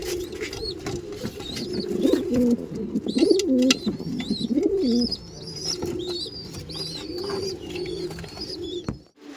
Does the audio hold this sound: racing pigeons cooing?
yes